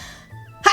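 A single short sneeze bursts out near the end after a quiet moment, sharp and close.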